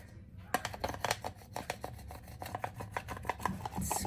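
Craft vinyl being scraped down onto a surface with a tool, a quiet close series of irregular scratchy rubbing strokes with no talk.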